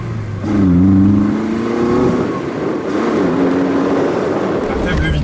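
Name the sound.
BMW 2002 car engine while driving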